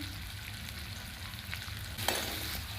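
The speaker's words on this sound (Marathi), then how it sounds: "आपण यामध्ये बारीक चिरलेला कांदा घालून घ्यायचा आहे कांदा आपल्याला छान सोनेरी रंगावर येईपर्यंत परतवून घ्यायचा आहे" Finely chopped onion fries in oil with cumin, a continuous low sizzle and crackle with a brief louder scrape of stirring near the end, no voices.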